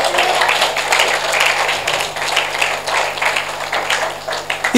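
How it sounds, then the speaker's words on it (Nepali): A church congregation applauds together at a Christmas service, steady dense clapping that fills the space and holds for several seconds without talk over it. "ताली बजाउनुहोस् परमेश्वरलाई"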